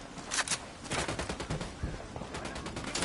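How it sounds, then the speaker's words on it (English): Rapid gunfire in Ghost Recon Wildlands, a string of sharp shots and short bursts close up and fairly loud, with no talk. "Opening fire on these fuckers."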